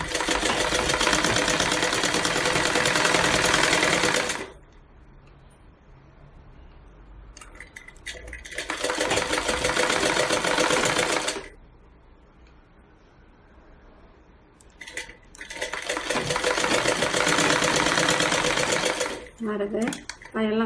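A sewing machine stitches around a blouse sleeve in three loud, sustained bursts with quieter pauses between, close by, and a brief clatter near the end.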